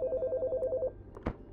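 A phone rings in the Chicory: A Colorful Tale video game while calling home to the parents: a rapid warbling ring tone for under a second, then a short soft thump.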